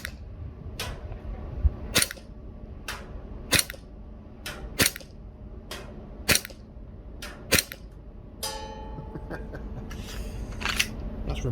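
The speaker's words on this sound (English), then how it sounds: "It's a Glock 19, remember, it's not a big pistol at all." A gas blowback airsoft Glock 19 pistol fires 0.3 gram BBs at an outdoor range, about ten sharp, loud cracks spaced roughly a second apart with mechanical clacks between them, with no talk.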